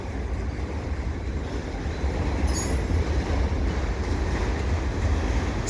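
A CP mixed freight train rolls past at Dorval with steady, loud rumble of railcars and wheels, a brief higher squeal near the middle, continuous throughout.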